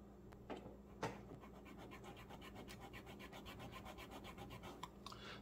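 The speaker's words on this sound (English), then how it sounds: "I just get in here and just start filing away." A file rasps steadily at a notch in a cardboard model rocket tube, producing a soft, continuous scraping with a few sharper strokes, quiet and close, with no talking.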